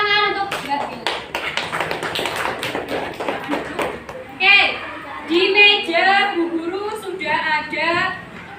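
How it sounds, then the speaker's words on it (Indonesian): Classroom applause at an elementary school, SDN 01 Klegen, as students clap for Mbak Bil; dense rapid clapping for several seconds, then a teacher speaks over the fading claps. "beri tepuk tangan untuk Mbak Bil"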